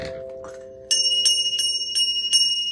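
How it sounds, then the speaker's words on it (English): A small bell is rung close by, with a quiet lead-in and then about six bright, evenly spaced ringing strikes that overlap as they fade. "You guys want my bell again?"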